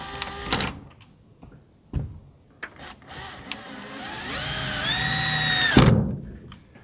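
A cordless power drill without its sleeve drives screws while a window is installed in a workshop build, with short bursts and a longer whirring run that rises in pitch, close and moderately loud among scattered knocks.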